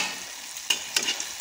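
Besan-coated leaf pakoras frying in hot oil, a soft bubbling hiss with a few sharp scraping stirs near the pan.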